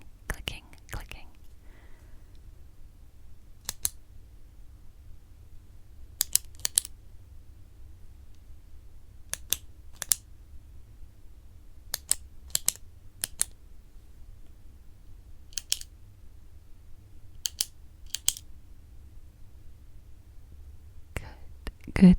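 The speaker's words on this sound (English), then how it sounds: "concentrate how many times you hear my pen clicking" A ballpoint pen clicked about a dozen times at irregular intervals, each a sharp, dry, close-up snap against a quiet background hum, with soft whispering at the start and end.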